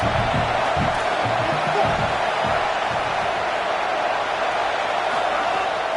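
A home stadium crowd at a college football game (CSFL vs Oklahoma) roars loudly and steadily, a dense sustained wall of noise with faint commentary underneath.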